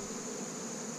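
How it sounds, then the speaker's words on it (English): A steady, dense buzz of many bees swarming close around an open backyard hive, continuous and loud with no voices. "push a lot of the bees out of the way."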